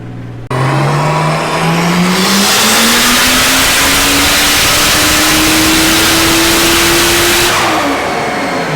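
A turbocharged 2JZ engine in a Mustang free-revs hard, its pitch climbing steadily into a screaming high note with the wastegate opening, then dropping off at the end, very loud and close with no voices.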